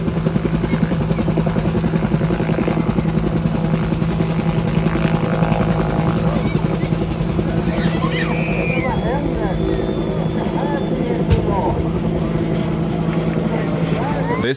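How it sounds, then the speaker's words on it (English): A helicopter at an air show in Sweden gives a constant loud engine drone with a rotor-like thrum, heard from a distance over wind noise, with people talking faintly in the background. "This helicopter dropping a car at an air show in Sweden."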